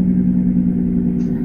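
A vehicle drives in the video game American Truck Simulator, giving a loud, steady low engine hum that drones evenly for a brief moment.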